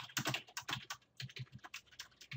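Fast typing on a computer keyboard enters a RuneScape trade message as quick bursts of close, crisp key clicks, with a short pause in the middle.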